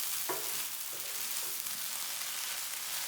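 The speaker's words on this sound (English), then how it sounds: "the eggs are cooking all the way through" Eggs frying in a thick-based pan: a soft, steady sizzle, faint and even throughout, with a couple of light taps early on.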